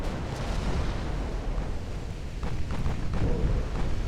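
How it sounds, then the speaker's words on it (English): 18-inch torpedoes striking a warship in the naval game Ultimate Admiral: Dreadnoughts, heard as a steady, heavy booming rumble with rolling low thuds and no clear pauses. "she's getting torped. Those are 18-inch torpedoes."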